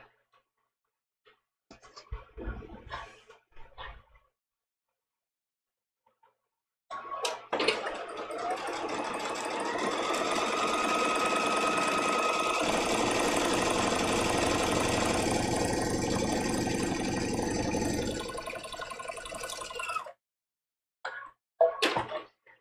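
A sewing machine runs in a long continuous whir for about thirteen seconds, preceded and followed by brief handling clicks and rustles.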